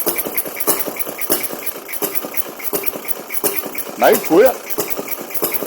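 An Elgin Comet two-stroke engine runs with a steady, uneven train of popping exhaust beats, while a voice speaks briefly over it.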